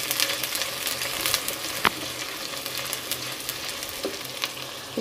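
Ginger garlic paste frying with onions in a pan while cooking Pakistani cabbage with chicken, a steady soft sizzle with a few sharper clicks of stirring, close by and with no talk.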